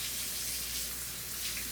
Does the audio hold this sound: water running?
yes